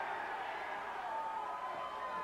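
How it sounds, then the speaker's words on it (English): Spectators at a professional wrestling match cheer and roar in a continuous, fairly distant wash of crowd noise, steady and moderately faint throughout. "Fans cheering Dr. Death on."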